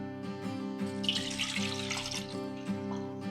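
Chopped bitter gourd is washed under running tap water, a steady splashing flow over a low background hum, with a few light knocks of the vessel.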